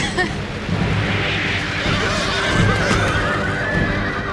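Cavalry horses in a video game battle recreating the Battle of Cynoscephalae, with loud whinnies and clip-clopping hooves throughout, over a dense rumble of combat.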